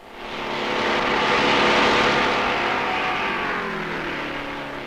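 Red, white and blue American Motors Javelin race cars roar along a road racing circuit, a loud sustained engine drone swelling in over the first second and holding steady as the cars pass, fading slightly toward the end.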